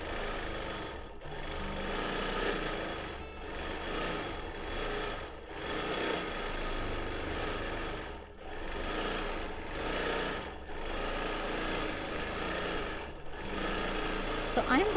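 A sewing machine quilting a minky-backed baby quilt runs in steady whirring stretches, pausing briefly every couple of seconds, at close range while a person talks over it.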